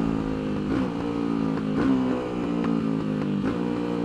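Tianda TDR300 motorcycle on a raceway, engine running steadily and revving at moderate pitch throughout, a close, continuous drone with slight swells in throttle and no talk over it.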